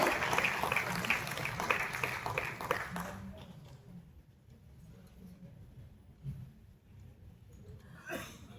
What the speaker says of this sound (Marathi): एकदा जोरदार टाळ्यांचा कडकडाट त्यांच्यासाठी होऊन जाऊ दे.